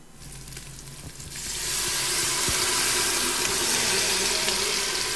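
Beef pieces washed under a running tap, water splashing and gushing loudly and steadily after a softer start, with occasional knocks as the meat is handled.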